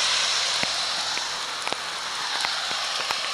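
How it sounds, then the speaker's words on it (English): Steady heavy rain hisses across surfaces during a run, with scattered louder drops pattering through the constant wash of noise. "heavy rain, and we are out here loving it."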